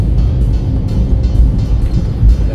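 A smoky jeepney passes on an elevated expressway, its deep engine drone and tire rumble blending into steady traffic, loud and close with no speech.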